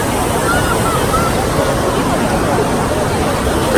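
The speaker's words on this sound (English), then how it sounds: "You're in a wave pool." Waves churn steadily in a wave pool at Universal's Volcano Bay water park, a loud, constant wash of surf filling the whole moment with faint crowd noise underneath.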